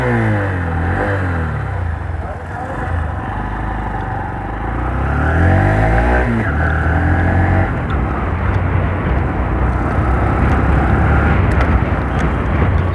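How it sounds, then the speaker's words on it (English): A Honda SP125 motorcycle with a quiet AC-generator starter idles steadily up close, its low engine hum rising slightly once it catches, with no talk. "So let me start the bike."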